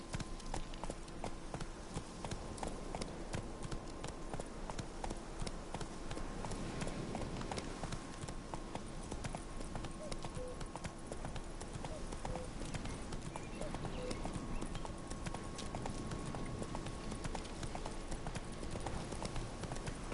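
A horse gallops in The Witcher 3 with steady, rhythmic clip-clop hoofbeats running throughout at a moderate level, while someone talks over them.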